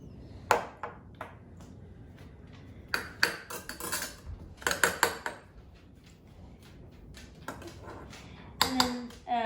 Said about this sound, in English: I'm just gonna give it a stir so that they're all mixed in there